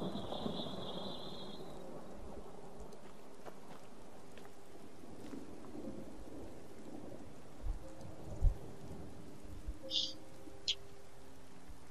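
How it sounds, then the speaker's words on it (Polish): Rain and rolling thunder from a storm in the video game Skyrim, a steady wash of rain with a few low rumbles and small knocks toward the end, fairly quiet. "Deszczyk."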